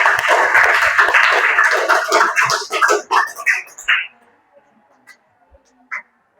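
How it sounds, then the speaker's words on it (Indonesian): Classroom applause for a student group after their presentation during a teaching-practice lesson: a burst of dense clapping from a small crowd for about three seconds, thinning into a few scattered claps before fading to near silence. "Kita berikan tepuk tangan untuk kelompok 2"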